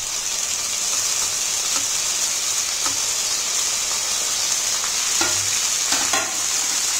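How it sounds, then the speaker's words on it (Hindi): Onion, peas and corn sautéing in a pan for poha, a steady close sizzle and hiss with a few scraping stirs of a spoon, no talking. "फिर से हम इसे अच्छे से सॉटे कर लेंगे।"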